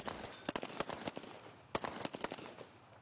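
Rifle fire at a special forces shooting drill, with sharp shots cracking out in an irregular string over a steady bed of outdoor noise, some shots close together and some spaced apart, and no voices.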